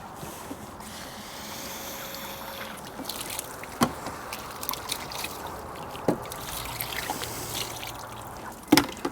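Water trickles and splashes steadily while cleaned game birds and a table are rinsed, with a few sharp clicks and knocks over the soft flow.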